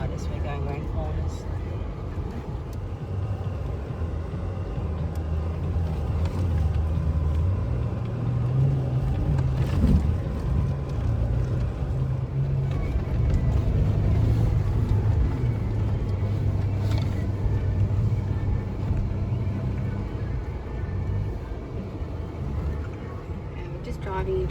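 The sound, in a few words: vehicle driving through soft sand, sliding around corners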